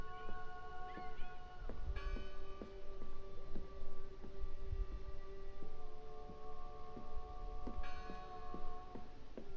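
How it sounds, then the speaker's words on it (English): A deep bell tolls repeatedly in the horror game Draugen. The slow, resonant strokes ring out at an even pace over a dark ambient backdrop. "I heard the bell"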